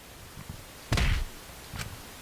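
A single dull, heavy thud of a punch landing in the Danganronpa V3 video game, a short loud impact followed by a quieter second knock, alone with no talk.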